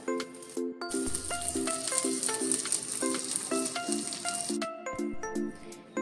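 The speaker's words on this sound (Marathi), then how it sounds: "तशेंच हांव दुसरे पापलेट बी फ्राय करून घेता" A second masala-stuffed Goan-style pomfret frying in a pan gives a continuous soft sizzle, steady throughout and partly buried beneath louder melodic background music.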